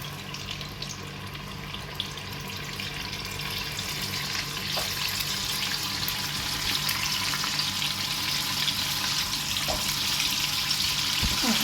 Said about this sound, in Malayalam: ഓരോ പീസ് ഇതുപോലെ തിളച്ച് നിൽക്കുന്ന എണ്ണയ്ക്കകത്തോട്ട് നമുക്ക് ഇട്ട് കൊടുക്കാം